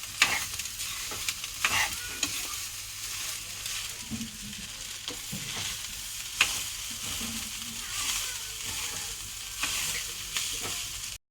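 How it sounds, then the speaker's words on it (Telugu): Leftover rice with lemon juice is mixed with a spice tempering in a pan off the heat. A spoon scrapes and stirs in repeated short strokes over a soft, lingering sizzle. "ఈ పోపు సగం అంతా కలుపుకుంటా."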